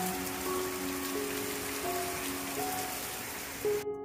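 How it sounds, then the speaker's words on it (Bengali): Heavy rain with big drops pours steadily outside a home on a rainy day, a dense even patter holding at one level throughout, with a brief louder knock near the end. "বাইরে এরকম ঝমঝমিয়ে বৃষ্টি হচ্ছে"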